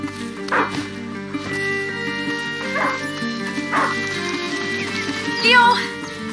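A hunting dog in the video game A Plague Tale: Innocence gives several sharp barks and yips over a steady musical score, with a brief whimpering yelp near the end.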